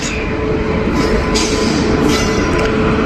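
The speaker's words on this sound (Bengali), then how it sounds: "চার নম্বর প্ল্যাটফর্ম দিয়ে থ্রু ট্রেন ঢুকছে দ্রুত গতিতে" A through train pulled by a Ghaziabad-based locomotive enters platform four at speed, a loud, close, steady rumble of wheels on rail with bursts of metallic hiss and rattle as the cars pass. Nobody speaks.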